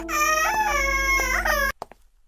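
Several cartoon babies wail continuously in high, strained harmonic cries, loud and close, overlapping for most of the stretch before breaking off into a few brief sobbing whimpers.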